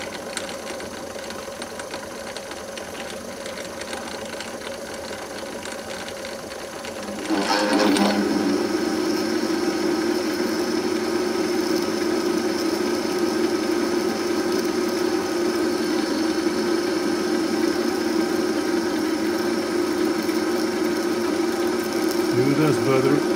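A Myford ML7 lathe runs in back gear at 110 RPM with a block tool post. A faint hum gives way after about seven seconds to a louder, steady mechanical whir and gear whine that holds to the end.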